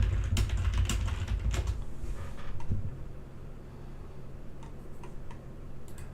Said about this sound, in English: Well, does my keyboard work?